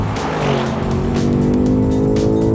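A BMW X6M Competition and an Audi RSQ8 launch side by side in a drag race, producing a loud, sustained roar of hard-revving engines with rising pitch and tire squeal, close and continuous.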